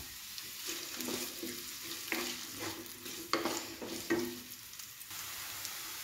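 Curry leaves sizzling in hot oil in a pan for a beef curry, a steady close frying hiss broken by several sharp crackles and spatters, with some stirring and no talk.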